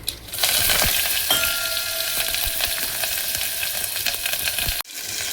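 Garlic, green chili and curry leaves hit hot oil and crackle loudly and continuously, a bright dense sizzle with occasional sharp pops and spoon clinks, ending in an abrupt cut near the close.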